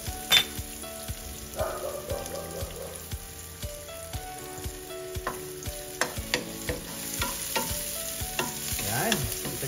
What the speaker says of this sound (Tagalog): Naluluto na yung ating sibuyas.